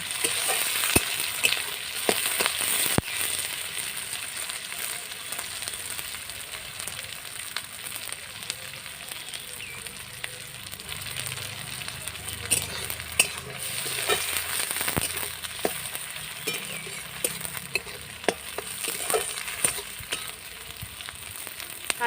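Chopped onions frying in a pan for duck curry, a steady close sizzle with intermittent clinks and scrapes of stirring throughout, no talking.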